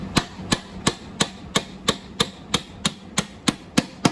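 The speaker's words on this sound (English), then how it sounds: "let me show you how I knocked the spindles out" Hammer blows driving a mower spindle shaft out of a Hustler mower deck through a wood block that protects the threads: about a dozen sharp, evenly spaced knocks, close and loud, with no talk.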